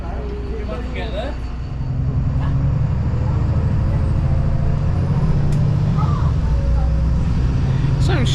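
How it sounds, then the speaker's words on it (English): Steady low rumble of idling buses and passing traffic at the Bangor bus station in Wales, with a hiss of air brakes and faint voices nearby. "here in Bangor at the bus stand"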